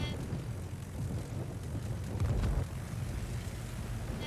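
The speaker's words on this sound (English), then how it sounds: "Comes in with the rocket planes again." Rocket-armed attack planes drone in during a World of Warships naval battle, a steady aircraft engine roar with a heavier rumbling burst of rocket impacts midway, no voices.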